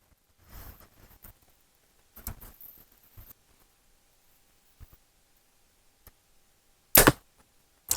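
Darton Sequel 33 ST2 compound bow firing an arrow outdoors, one sharp loud snap near the end standing alone after scattered handling rustles and quiet pauses.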